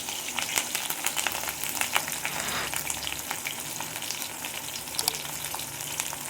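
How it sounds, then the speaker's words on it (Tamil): Curry leaves sizzle and crackle in hot oil for a country-chicken fry, with sharp pops over a steady frying hiss at moderate volume. "இப்போ இது கூட கருவேப்பிலை நம்ம சேர்த்துக்கலாம்."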